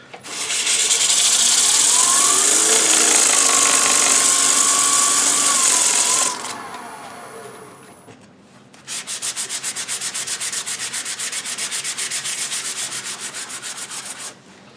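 Sandpaper of P150 grit, folded and backed, rubs against a turned wooden twig pot spinning on a lathe, giving a loud steady abrasive hiss for about six seconds, then a quieter pause, then a renewed rhythmic scraping pass.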